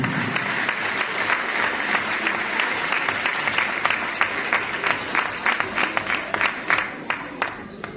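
Crowd applause at a Ballada de Gitanes folk dance festival in Parets del Vallès, steady and dense at first, then breaking into sharper scattered claps toward the end, with a faint voice in the background.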